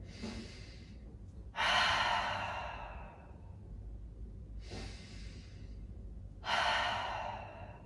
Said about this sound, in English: inhale from the nose and then have your jaws relaxed and exhale in this manner